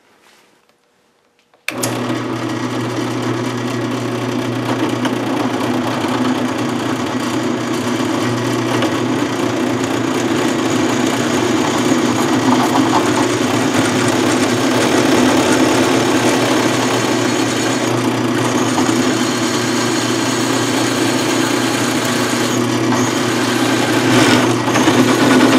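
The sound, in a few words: drill drilling holes in metal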